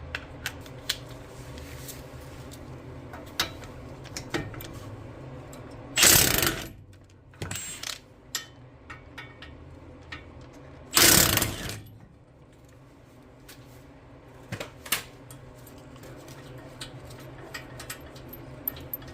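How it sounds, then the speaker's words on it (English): Two short, loud bursts of a hand ratchet loosening caliper bracket bolts on a 2016 Ford Explorer Platinum front brake, with light clinks and handling noises between them and no talking. "get these two bolts out. That's the bolts for the caliper bracket."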